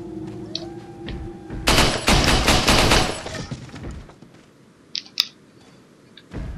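Gunfire from Resident Evil 4 bursts out loud and close in a dense cluster of rapid shots for about two seconds. A few sharp isolated cracks follow after a quieter stretch.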